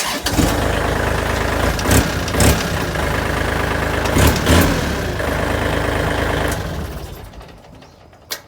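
A Kubota L3208SP tractor fitted as a mower cranks and catches, then runs at a steady rumbling idle for several seconds before fading down, loud and close.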